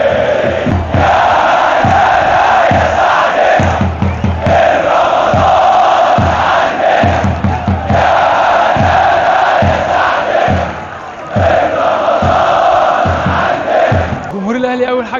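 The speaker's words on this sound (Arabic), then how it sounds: "الجمهور نده على اللعيبه واحد واحد" At Ghazl El Mahalla stadium, a huge football crowd chants in loud rhythmic unison, calling out players' names one by one, each call ending in a punchy clapped beat, repeating cycle after cycle close up.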